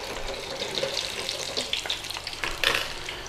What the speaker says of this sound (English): we're frying these for real.